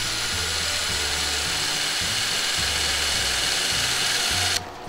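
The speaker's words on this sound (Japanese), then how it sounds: "この小さい2ミリの30っていうのをドライバードリルで締めてみたいと思います" A HiKOKI DV12DD cordless driver drill drives a small 2 mm screw: a steady high motor whine with a pulsing low rhythm as the screw turns, stopping abruptly near the end.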